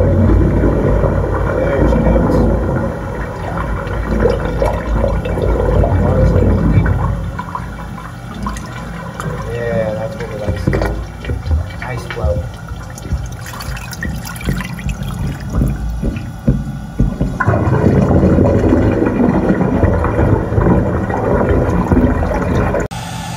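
Water from flushed toilets rushes and gurgles steadily through a house main drain line to a septic system for a long stretch, loud and close, surging as flushes come through, with occasional voices in the background.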